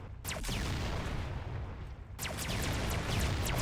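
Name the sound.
explosion attack in a video game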